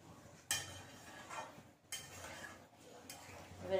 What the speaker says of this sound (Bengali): এবারে একটু নেড়ে চেড়ে নিচ্ছি।